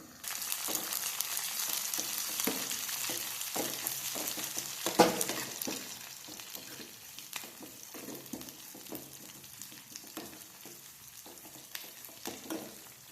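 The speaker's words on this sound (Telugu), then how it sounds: "ఆనియన్స్ ఎర్రగా వచ్చేంత వరకు వేయించుకోండి" Onions, garlic cloves and two broken dried red chillies fry in oil in a pan for gongura dal, a close, steady sizzle with crackles and occasional scraping stirs.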